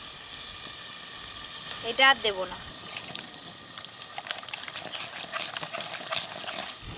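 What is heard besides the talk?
pouring hilsa frying oil over ground cumin, mustard, chilli paste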